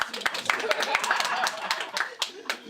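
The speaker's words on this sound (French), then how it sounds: "il y a une tentative d'applaudissement." A comedy club audience gives scattered, hesitant applause, a thin patter of individual claps with a few louder strikes and some chuckling underneath.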